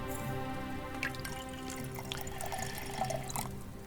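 Chamomile brew being poured in the video game Kingdom Come Deliverance II, a soft trickling, dripping liquid stream beneath steady background music, fairly quiet.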